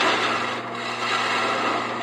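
A gouge cuts into wood spinning on a lathe while a table leg is turned, giving a steady, close, continuous scraping hiss with no pauses and no voices.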